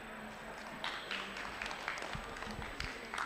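An audience at a COP27 panel on climate-resilient health systems in Africa gives a short burst of scattered applause, moderately distant, with irregular claps over a room-tone background.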